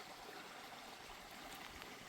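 A small stream flows beside a campsite on the Voie d'Arles pilgrimage route, a soft, steady wash of trickling water that stays faint and even throughout, with no voices.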